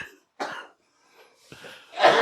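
Three separate coughs, the last the loudest and harshest, with short quiet gaps between them, close to the microphone and with no talking.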